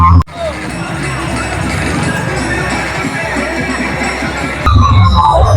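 A large Ram Navami rally crowd in Manikpara fills the air with a loud, steady hubbub of many voices and distant cheering, with some traffic mixed in and a louder surge near the end.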